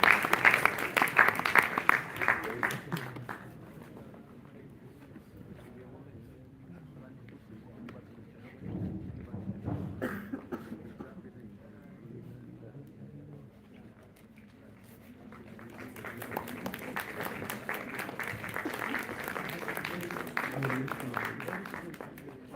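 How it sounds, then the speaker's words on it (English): An audience at an international conference on technical textiles and sustainability applauds in two waves of steady clapping, with a quieter murmuring lull between them. "Big round of applause."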